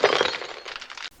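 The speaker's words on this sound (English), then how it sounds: "Breaking glass is a sin." Glass shattering in a short, sharp crash with bright clinking fragments, close and loud, ending abruptly after about a second.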